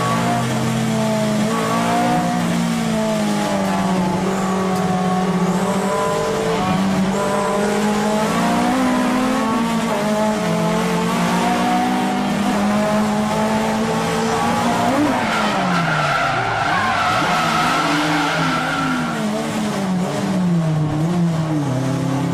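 Continuous loud engine roar and revving with screeching tire squeal as two cars slide through a twin drift at Nakayama circuit, sustained and close throughout.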